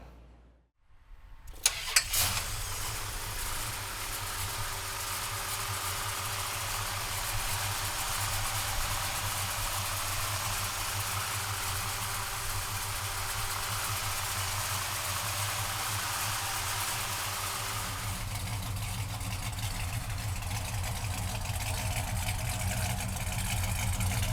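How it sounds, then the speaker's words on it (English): A 1969 Dodge Charger with a Hemi V8 cranks and fires up, then settles into a loud, steady, throbbing idle that runs uninterrupted for the rest of the clip. "we're gonna fire this Hemi up for you right now"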